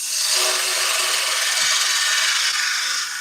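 Steady, loud scraping hiss of a woodturning tool cutting a wooden spindle on a lathe, continuous and close with the bevel rubbing, no speech.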